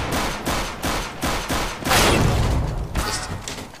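Rapid bursts of gunfire in the tactical shooter CS:GO, with repeated shots in short volleys followed by a heavier sustained burst, loud and close, with no talk over it.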